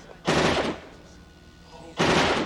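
Two loud bursts of rapid automatic gunfire from the 1987 film Robocop, each lasting about half a second, separated by a quieter stretch of muffled background sound.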